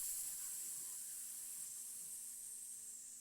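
A voice imitates a silver crucifix sizzling against skin: a steady, airy hiss that runs unbroken and fairly loud throughout, with no words.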